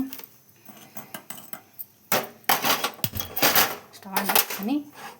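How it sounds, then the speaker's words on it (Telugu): A pan clanks onto a kitchen stove and the stove clicks on while Maggi noodles are being prepared, with several sharp metallic clatters and knocks under continuous talking. "ఇప్పుడు స్పెషల్గా ప్యాన్ పెట్టేసుకొని స్టవ్ ఆన్ చేసుకొని"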